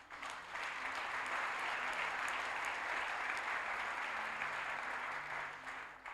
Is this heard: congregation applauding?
yes